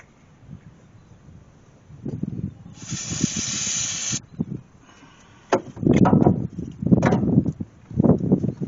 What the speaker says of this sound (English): Let's spray some ether.